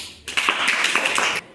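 A classroom of children claps together for a classmate, a short burst of quick, fairly close clapping lasting about a second, with no talk over it.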